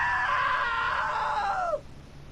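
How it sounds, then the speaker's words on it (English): A character screams in the video game What Remains of Edith Finch: one loud, sustained cry lasting under two seconds that bends downward and cuts off, followed by quiet. "Now that was a great scream."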